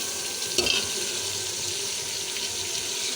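Chicken fries in hot ghee with a steady broad sizzle and a brief louder crackle near the start, with no talk.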